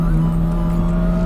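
A Lamborghini LM002 engine holds around 4,000 RPM at quarter throttle, a loud, steady, droning hum heard from inside the vehicle with no noticeable change in pitch.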